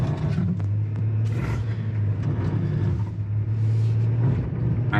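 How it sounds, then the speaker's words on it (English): A 2022 Chevy Traverse RS engine held at full throttle, a loud, steady low drone that barely changes pitch across the whole five seconds, with no talking. "I'm full throttle right now."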